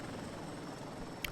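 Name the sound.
helicopter flying in a flight simulator video game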